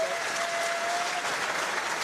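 A rugby crowd at Llanelli applauds as the injured Chris Hala'ufia leaves the field, a continuous, even wash of distant clapping with a faint steady tone running through part of it.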